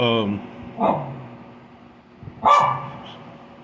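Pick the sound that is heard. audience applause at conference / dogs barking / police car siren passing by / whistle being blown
dogs barking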